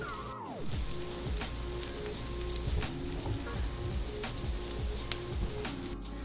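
An aloo laccha paratha cooking on a hot pan, with a steady close sizzle and crackle running throughout and a few faint taps, no talk.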